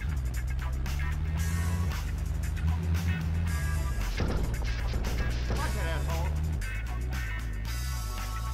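Truck driving in Grand Theft Auto 2 on PS1, a steady low engine drone running throughout with game music and bumps layered over it.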